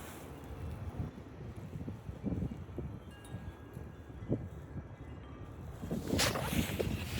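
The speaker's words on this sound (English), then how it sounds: "this wind is crazy." Strong outdoor wind gusts at a house buffet the microphone in low rumbling bursts that swell and fade, building louder toward the end.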